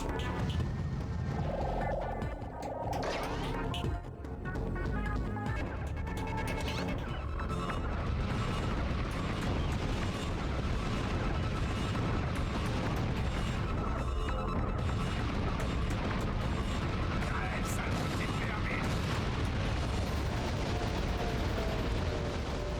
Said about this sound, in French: Il y a des explosions, s'il te plaît.